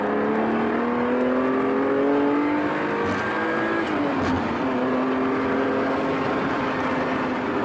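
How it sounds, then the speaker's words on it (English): A Ferrari Testarossa engine with a standard exhaust drones steadily from inside the cabin, its pitch climbing, dropping briefly, then rising again as it revs through the gears. "This car's running a standard exhaust, and actually the noise is all inside."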